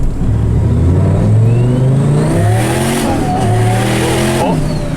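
A 900hp Dodge Ram 1500 with only 16 degrees of timing revs hard while spinning its tire, a loud close engine climbing and falling in pitch over a whirring, shredding tire, with a voice briefly over it.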